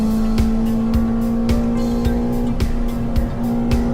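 A Ford Fiesta ST with a Mountune exhaust and inlet cams, on a track day, holds a loud steady engine drone from close up, with repeated rhythmic thumps from the road underneath.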